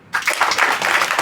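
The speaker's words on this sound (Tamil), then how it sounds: "ஆசை கைதட்டுங்க." Audience applause at a Tamil self-improvement talk, starting after a brief silence and continuing as steady, dense clapping from a crowd for the rest of the short stretch.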